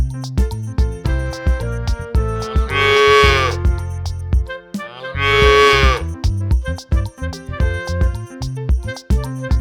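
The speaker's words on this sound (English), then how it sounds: "Mother cows and their calves have a special bond." Mother cows and calves on a farm moo in two long, loud, drawn-out calls, close by, over a steady rhythmic musical backing.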